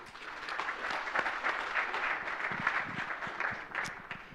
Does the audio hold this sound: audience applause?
yes